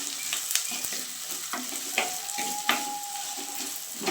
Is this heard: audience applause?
no